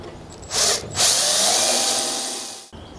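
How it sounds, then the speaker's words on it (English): A power drill bores through holes into a welding cart, a loud sustained high whine that starts, briefly pauses, then runs steadily for about two seconds before cutting off abruptly. "I'm going to drill through these holes to mark the location"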